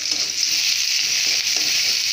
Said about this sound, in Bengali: এখন হালকা করে ভেজে নিচ্ছে।